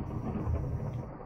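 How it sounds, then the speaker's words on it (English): Video game thunder rolls as a low, dense rumble that fills the short moment at moderate volume. "I'm hearing thunder"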